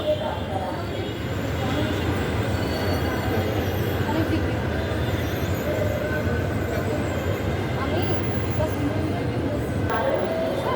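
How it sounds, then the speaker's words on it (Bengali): A metro rail train carries passengers toward Motijheel, its steady low rumble and rolling wheel noise filling the car while people talk nearby. "প্রথমবার মতিঝিল যাচ্ছে মেট্রো রেল দিয়ে"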